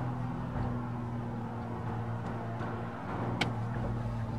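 A BMW Z4 M40i sports car engine idles with a low, steady rumble and deep droning hum throughout, fairly quiet and constant, with a brief sharper tick near the end.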